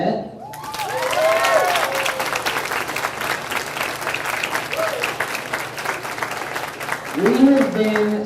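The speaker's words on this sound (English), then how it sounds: "Can we get a round of applause for Miss Burnett?" A full room claps steadily and warmly for a retiring principal, Miss Burnett, at a school senior breakfast, the dense applause lasting several seconds with a voice speaking over the start and end.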